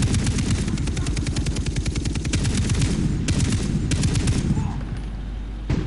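Rapid automatic rifle gunfire from Far Cry 3 co-op rattles loudly in dense bursts, nearly nonstop, then tapers off near the end with a final sharp shot.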